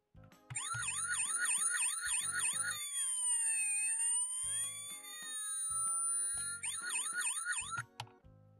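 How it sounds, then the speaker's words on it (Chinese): A toy police car robot built from plastic building blocks sounds an electronic siren, its rapid warbling wail looping loudly and up close, shifting to a slower sweeping tone in the middle before returning to the fast yelp. "按下有警车声警灯。"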